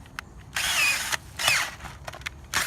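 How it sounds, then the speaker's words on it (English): A handheld earth auger bores a hole into dirt for trapping, its motor whining in several loud bursts of a second or less, close by, with short pauses and scraping between runs. "I'm gonna drill it out first because it gives me extra dirt."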